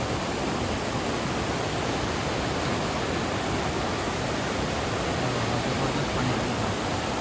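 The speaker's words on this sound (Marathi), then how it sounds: "त्याच्यापेक्षा मोठा पाणी येतं हयसर" Broad, steady roar of a torrent of rushing water during the Konkan monsoon in Mangeli village, a dense continuous wash that stays loud and close throughout with no voices.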